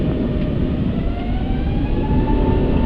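Airbus A380 engines at takeoff thrust at Munich make a loud, continuous, broad roar that holds steady throughout.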